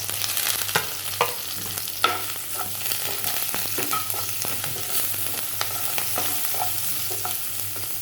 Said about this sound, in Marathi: आता यामध्ये आपण हे कोथिंबीरपासून सगळे मसाले हे यामध्ये घालून घेऊया